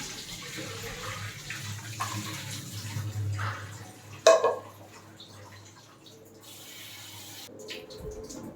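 Milk curdled with vinegar is poured through a cloth to strain homemade paneer, making a close splashing trickle that swells into one brief louder gush before fading to drips.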